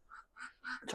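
A few soft clucking calls from poultry come in quick succession, faint and a little distant.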